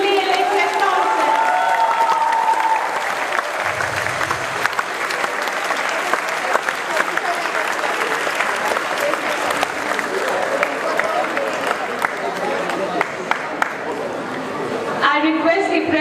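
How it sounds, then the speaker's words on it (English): Audience applause fills a school hall at a student council ceremony, a long, steady wash of many hands clapping with some crowd murmur and a brief cheer, rising again near the end. "Can we have a huge round of applause for the newly elected council?"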